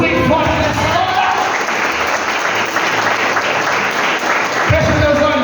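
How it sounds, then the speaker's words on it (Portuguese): A church congregation applauds Jesus loudly during a sermon, a dense, sustained burst of clapping and crowd noise that fills the room, with background musical tones underneath. "Aplauda Jesus bem forte nessa hora."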